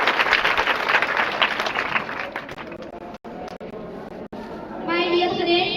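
Audience at a school awareness event in India claps loudly and densely for a while, then the clapping fades into a few scattered claps with short pauses, and a voice begins speaking near the end.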